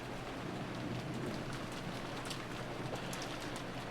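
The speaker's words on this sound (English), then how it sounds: "disappeared beneath the sound of the rain" Steady rain sound effect from the Umineko When They Cry visual novel, a dense, even hiss of falling rain with no pauses and no voices.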